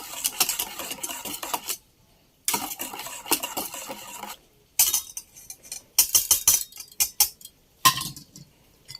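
A utensil scrapes and clinks through a guyabano ice cream mixture in a bowl, coming in several steady bursts of close, busy stirring separated by brief pauses.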